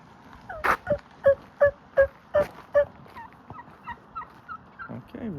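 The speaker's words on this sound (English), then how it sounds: "And there's the turkeys." Wild turkeys gobble along a hiking trail near Estes Park, Colorado: a run of loud, close, rattling calls at a quick, even rhythm, then softer gobbles trailing off over quiet outdoor background.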